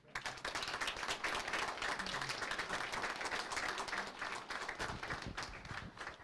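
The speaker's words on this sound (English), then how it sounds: "2022 State Field Hockey team another great round of applause" An audience at a county board of education meeting gives the 2022 state field hockey team a sustained round of dense, even clapping, fairly faint and distant, with no talking over it.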